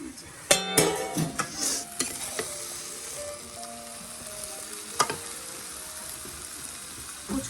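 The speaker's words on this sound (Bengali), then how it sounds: "চিকেন কষা" Chicken kosha frying in a pan on a rooftop home kitchen, a steady close sizzle with the scrape and clatter of a spoon stirring, and sharp clinks against the pan near the start and middle.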